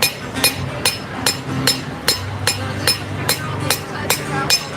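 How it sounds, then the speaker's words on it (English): A rounding hammer strikes the inside of a metal handle while forging at an outdoor farmers market, about a dozen bright ringing blows in a steady rhythm, with crowd murmur underneath. "I'm going to use the round side of my rounding hammer, and I'm going to forge on the inside of the handle"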